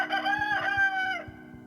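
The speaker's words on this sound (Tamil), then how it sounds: "உடனே சேவல் கூவிற்று." A rooster's cock-a-doodle-doo sound effect plays during a Passion Play staged in San Jose, one long, loud, clear crow lasting just over a second before tailing off, over a faint low rhythmic background.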